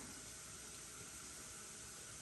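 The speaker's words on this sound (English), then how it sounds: "we're just going to slowly pour this over our bread, bacon," Liquid egg mixture poured slowly over bread, bacon and cheese for a bacon and egg casserole, a faint, steady, continuous wet trickle with no talk.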